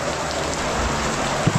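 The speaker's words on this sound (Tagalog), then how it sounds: "Blessing, ang lakas ng ulan." Heavy rain pours down in a dense, loud hiss, with a couple of low thumps near the end; no talking.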